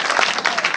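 Brief burst of loud clapping from a congregation at a church service, a dense wash of applause lasting under a second.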